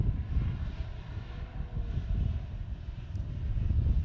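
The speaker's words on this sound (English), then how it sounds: "Currently taxiing out of the domestic terminal, Terminal 2, is Velocity Flight 418 bound for Adelaide." An airliner taxiing out of a domestic terminal, a continuous low engine rumble heard from a distance, steady and slightly rising toward the end, with no voices.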